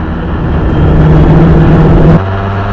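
A 1973 Formula Ford racing car works through a chicane at Oulton Park, its engine droning loudly and close with a steady pitch that drops suddenly near the end as the driver lifts.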